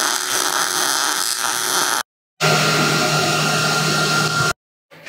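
Grinding down metal on a trailer frame, likely with a power grinder, plays as a steady, loud, broadband whine in two long bursts broken by short silences, with no talk.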